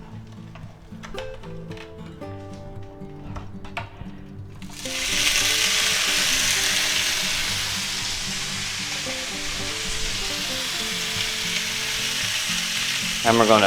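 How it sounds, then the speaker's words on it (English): Asparagus hitting hot canola oil in a pan sets off a sudden loud, close sizzle that holds steady to the end. A quieter tonal background and brief talk come before it. "now we're gonna add our asparagus to the pan here"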